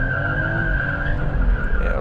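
A BMW 540i makes a launch-control start with traction control off, giving a loud, sustained squeal of spinning tires over a low engine roar, steady and close throughout.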